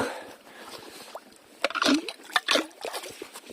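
Water sloshing and splashing from a hose fed by a tap, with irregular bursts of liquid spatter, fairly close and moderately loud, no talk.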